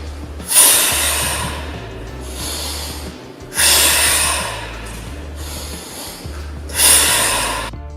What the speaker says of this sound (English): When moving downward, you breathe in.